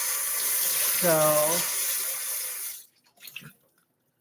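Tap water runs steadily into a sink while a dog's water bottle is rinsed out, a continuous close splashing hiss that stops abruptly, followed by a few faint clinks and a brief spoken word.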